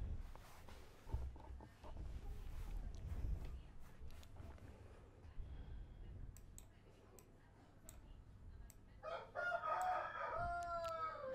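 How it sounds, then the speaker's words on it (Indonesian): A rooster crows once near the end, a clear rising-then-falling call over faint background noise and some indistinct low voices earlier in the recording. "Suara ayam."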